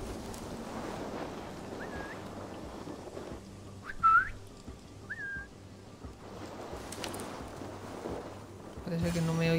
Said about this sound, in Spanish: atraerlos con un silbidito